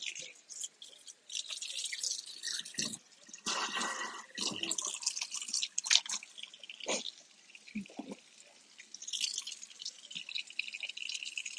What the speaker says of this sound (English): I'm just gonna rinse the meat off